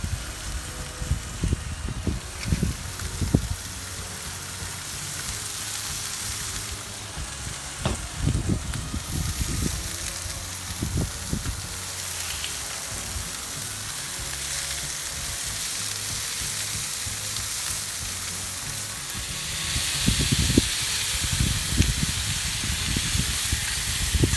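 Philly cheesesteak meat sizzles steadily in olive oil on a flat-top griddle, giving off a continuous bright hiss. Scattered scraping and clanking of the spatula come through over it, and the frying grows a little louder near the end.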